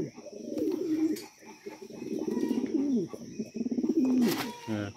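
A large Lahori pigeon coos in repeated deep, rolling phrases close by, with faint chirps and a brief wing flutter at the end; no talking.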